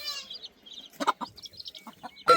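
Hens clucking in a village coop, a series of short close clucks and soft peeping calls in an irregular rhythm, ending with a louder squawk.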